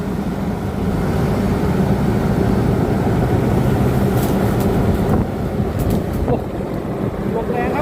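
Strong wind blows across a sugarcane field during rain while a Case IH 8810 cane harvester works nearby. A steady, loud roar of gusts and microphone buffeting fills the air, with a low machine rumble underneath.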